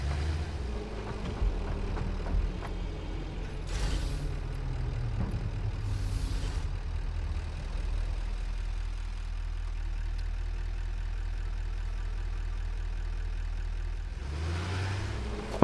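A tractor engine in the factory-building video game Satisfactory runs at a steady low drone, a continuous mechanical hum with brief whooshing swells over it.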